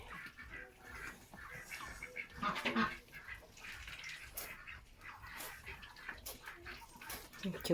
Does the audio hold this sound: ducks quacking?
yes